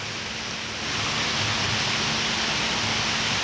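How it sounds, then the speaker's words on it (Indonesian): Heavy rain pours down close by as a dense, steady hiss that swells a little louder after the first second and stays constant, with no voices. "Hujannya gede banget nih."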